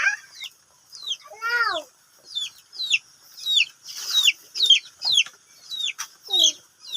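Young hens on a mountain farm cluck and chirp close by in a run of short, repeated calls, with one longer squawk near the start, alone in an otherwise quiet setting.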